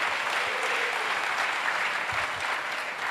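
A church congregation applauds together at a Sunday praise and worship service in a temple in Adjamé, Abidjan: a dense, steady wash of clapping that holds at an even loudness from start to finish.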